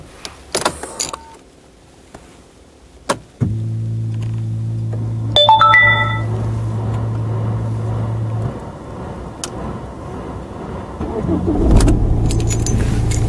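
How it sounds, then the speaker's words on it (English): Keys jangle close by, then a car engine starts with a sudden steady hum that settles into idling. Electronic chime tones sound in between, and the engine keeps running under light handling noises. "What we're going to do is we're going to start our car engine."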